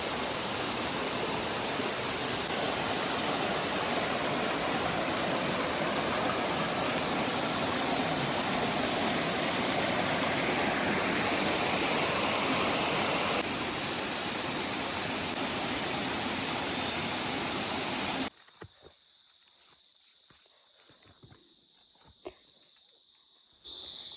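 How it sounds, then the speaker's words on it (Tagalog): Mountain spring water on Mt. Hamiguitan in the Philippines rushes in a steady, close, broadband wash for most of the time, then cuts off abruptly, leaving quiet with a few faint knocks. "Then we came across a spring to refill our water."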